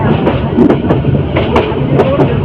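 Titas Commuter train hauled by a locomotive, running on rails with a close, loud rumble and rhythmic wheel clicks over a brief stretch.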